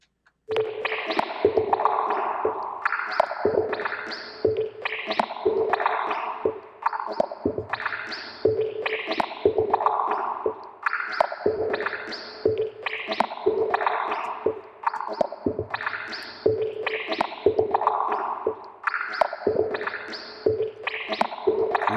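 A repeating percussion loop plays with heavy reverb added in Cubase 10.5, each hit smearing into a washy tail, the pattern cycling evenly and fairly loud throughout.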